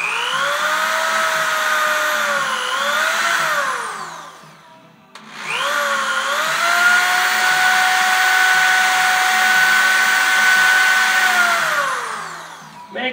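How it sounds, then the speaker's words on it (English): A drill spinning a flap wheel polishes metal on an Allis-Chalmers loader hydraulic cylinder, giving a loud, steady whirring grind in two long passes with a short dip between them, and no talk over it. "that can be done with a flapper wheel on a drill. Just buzz that a little bit."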